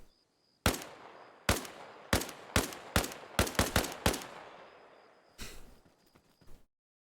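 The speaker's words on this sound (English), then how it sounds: "he's shooting at us" Enemy gunfire in the video game Arma Reforger: a string of sharp single shots at uneven intervals, several in quick succession, then a couple of more distant reports after a pause, with no talk over them.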